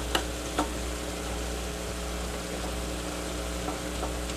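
Meat browning in a pan gives a steady, even sizzle against a low constant hum, broken by a few faint clicks and taps early on and near the end.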